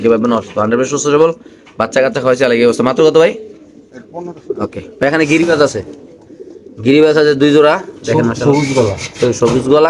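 Racer pigeons coo in low, rounded bursts at a pigeon sale, mixed with steady nearby talking that runs through most of the clip.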